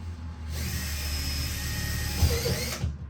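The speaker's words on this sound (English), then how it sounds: "I'm gonna drill it in" A power drill whirs steadily at close range for a couple of seconds, driving a screw into drywall with a slight strain and rattle, then winds down.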